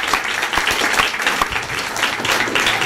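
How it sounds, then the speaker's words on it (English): Applause breaks out at a board of education meeting in a hall, a moderately sized crowd clapping steadily and audibly with some individual claps standing out, continuous across the whole moment without speech. "Let's give Franklin Primary School a round of applause."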